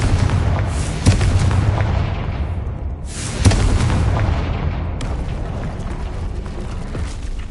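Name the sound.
Confringo blasting spell explosions in a Harry Potter video game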